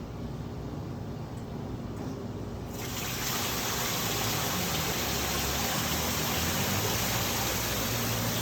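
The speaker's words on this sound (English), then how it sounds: "turn on waterfall" A steady rushing waterfall sound played from a smart speaker starts quietly, then jumps louder a few seconds in and keeps pouring evenly, a continuous hiss of falling water close by.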